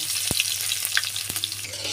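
Onions and green chillies sputter in hot oil in a cooking pot, a soft steady sizzle broken by a few sharp spatula knocks, heard up close without any talking.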